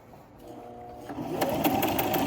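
A sewing machine stitching a doll outfit, its motor starting softly and speeding into a steady, close, rapid stitching rattle.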